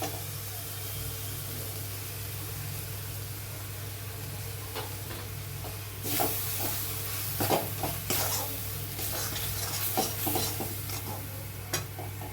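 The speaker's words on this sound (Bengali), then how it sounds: "এবার আমি কাজু পোস্তর পেস্টটা দিয়ে দিচ্ছি।" Cashew and poppy-seed paste goes into a pan of well-fried onions for mushroom masala: a steady hot sizzle with scraping stirs and clinks that grows louder and busier midway through.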